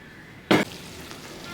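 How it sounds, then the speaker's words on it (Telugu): Ground masala paste drops into hot oil in a pan for a gherkin masala gravy, setting off a sudden loud burst of sizzling that fades quickly into a low, steady frying hiss. "ఇందులో నేను నూనె వేస్తాను చూడండి ఈ గ్రైండ్ చేసిందంతా మనం ఇందులో వేసుకోవాలి"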